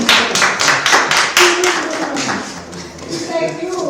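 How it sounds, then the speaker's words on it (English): Applause from a training-session audience in a business programme, several people clapping in irregular bursts for about four seconds, moderately loud, with voices talking over it. "Give him a round of applause."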